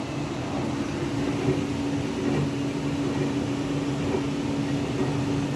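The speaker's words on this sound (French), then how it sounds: "Un petit lave-vaisselle qui tourne." A small dishwasher running: a steady mechanical hum with a low tonal drone and constant whooshing, unchanging throughout, nearby.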